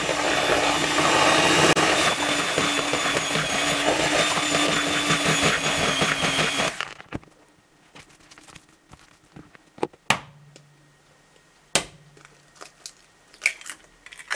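An electric mixer beats choux eclair dough as eggs are added one at a time, a loud steady whine for about seven seconds before cutting off, followed by scattered clicks and knocks.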